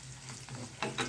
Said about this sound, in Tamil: தக்காளி, வரமிளகா, வெங்காயம், பூண்டு எல்லாம் சேர்த்து நல்லா வதங்கணும்.